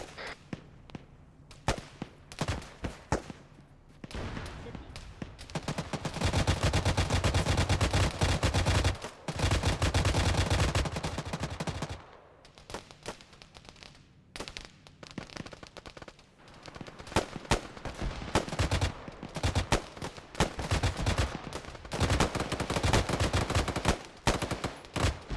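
Sustained gunfire in the military shooter Arma 3 during a castle assault: loud, dense automatic bursts and rapid shots crackle almost continuously, with only brief pauses between volleys.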